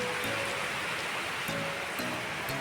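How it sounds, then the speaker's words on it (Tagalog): Steady, dense hiss of heavy typhoon rain pouring down, with faint tapping drops and a few soft tones buried in the wash. "Lakas ng ulan."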